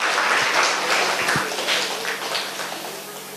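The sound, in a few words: applause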